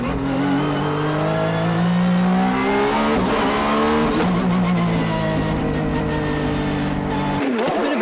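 An ARTA Honda NSX GT race car laps Tsukuba circuit, its engine note rising and falling steadily through gear changes and revs. The loud, close, continuous harmonic drone cuts off abruptly near the end, with no voices.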